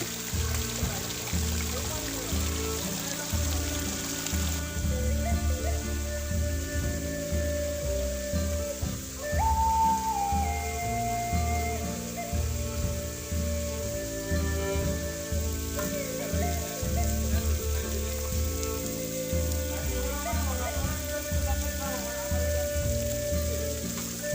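Chingri Jharna waterfall, reached from Boga Lake, gives a steady broadband rush of falling water that runs throughout, with music playing over it.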